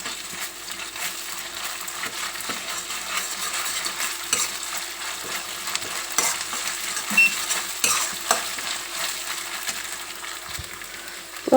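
Onions fry with ginger garlic paste for prawn masala, a busy, close sizzle broken by repeated utensil scrapes and metallic clinks as the mixture is stirred, with no voices.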